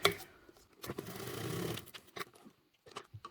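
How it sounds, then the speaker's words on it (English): Sewing machine top stitching fabric for a water or wine bottle crossbody bag, a short mid-clip burst of steady whirring stitching framed by brief clicks and handling noises, close and fairly quiet. "we're just top stitching with a 1/8 seam allowance"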